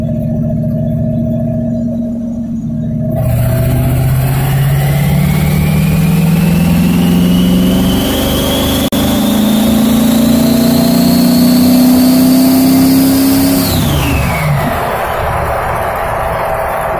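A V8-swapped Chevette pulls through fourth gear from about 35 to 60, its loud droning exhaust climbing steadily in pitch for several seconds before backing off as the throttle closes.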